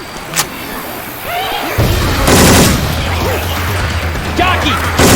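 Syphon Filter weapon sound effects replace the gunfire in Left 4 Dead 2: loud, close bursts of rapid shots and mechanical clatter, with a brief sharp crack early on.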